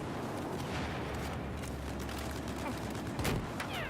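Battlefield 4 gunfire and rocket shots during a tournament match, a dense continuous rattle of shots with a sharper burst near the end, under a caster's commentary.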